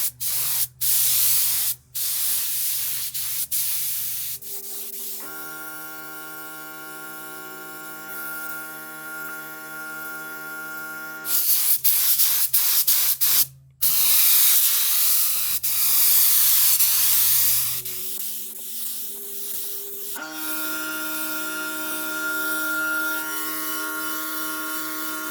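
Bursts of Eastwood epoxy primer hissing from a spray gun onto a car door and fender during rocker panel rust repair on a Chevy GMT800 truck, several sustained passes separated by pauses with a steady compressor-like drone between them.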